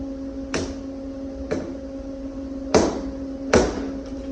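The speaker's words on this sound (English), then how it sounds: "We're finna get a little slide hammer action up top" Four dull metallic knocks from a slide hammer pulling a dent in the body panel of a 1965 Chevrolet C30 truck, landing at uneven intervals over a steady electrical hum, each a short close clunk.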